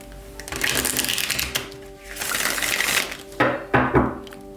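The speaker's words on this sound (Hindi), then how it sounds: "तो चलिए शफल कर लेते हैं थॉरस वृषभ राशि के लिए।" Tarot cards shuffled close by in a few bursts of crisp, rapid riffling and flicking, with soft music playing steadily underneath.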